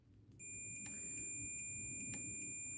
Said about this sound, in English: So now you will hear, hopefully, the sound of continuity.